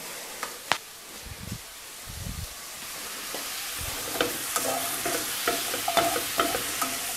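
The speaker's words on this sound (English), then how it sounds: "I'm sauteing right now just a little bit before I put my mince in." Vegetables, including spinach, sizzle and crackle steadily in a hot pan, with a few soft stirring scrapes and clicks of a utensil.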